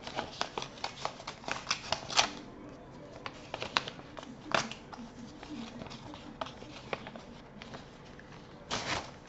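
A mailed paper envelope being torn and opened by hand, close and crisp, with irregular rustling and ripping bursts throughout and a louder tear near the end.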